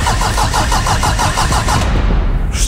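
A car engine cranks and starts with the ignition, a loud, close, rapid rhythmic churning that catches and settles into a running rumble near the end, with no talk.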